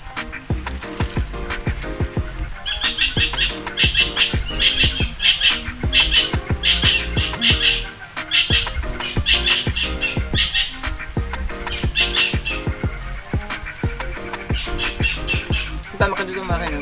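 Busy outdoor island ambience in the Philippines with repeated bird chirps and calls scattered throughout, layered over steady background noise and rhythmic clattering.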